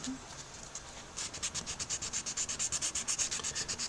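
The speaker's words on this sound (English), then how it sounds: "some water on the sanding sponge" Rhythmic wet rubbing strokes of a water-dampened sanding sponge on a tobacco pipe stem, a quiet start then a steady fast back-and-forth sanding pattern, close up with no voices.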